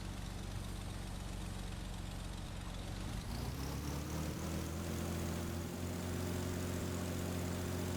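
A Yak-18T's big radial engine in Microsoft Flight Simulator 2020 drones steadily from inside the cockpit, its tone shifting partway through as the engine note rises; no talking.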